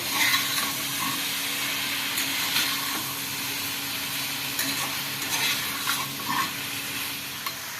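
Chopped tomato frying in a pan as the base for a Bengali fish curry: a steady hissing sizzle with scattered scrapes and clinks of stirring, close and fairly loud, with no one talking.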